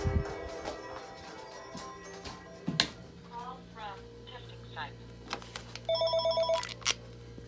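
A cordless VoIP phone on a SIP test extension rings with repeated electronic bursts after assorted clicks, knocks and handling noises, the ring tones clear and close near the end.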